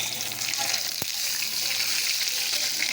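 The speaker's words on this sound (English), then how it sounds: "put your fish into the pot. And you're going to let it brown, golden brown" Fish sizzles as it browns in a pot for Jamaican brown stew fish, a steady, close hiss of frying oil that runs throughout, with a single sharp click near the middle.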